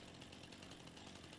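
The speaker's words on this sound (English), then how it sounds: "Good thing I always carry my pocket chainsaw with me." Chainsaw cutting deadwood in the farming game Farming Simulator 25, a continuous buzzing engine whine held steady at close range and fairly quiet, with no talk over it.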